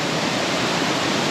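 Minnehaha Falls in Lakemont pours in a constant, loud, broadband rush of falling water, close and unbroken with no other sounds.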